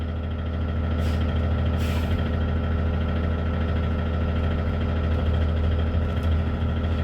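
A passenger bus engine idles with a steady low rumble, then the bus creeps forward a few feet during a brake test, with a faint hiss of air brakes above the constant drone.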